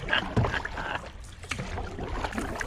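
A solo canoe paddled on a large lake, with steady paddle strokes and water swishing close by, plus some wind noise.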